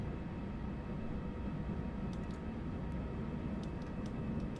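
An Airbus A340-500 airliner climbs out after takeoff in the X-Plane 11 flight simulator, a steady broad engine roar with constant rumbling noise and a few faint clicks, no talk.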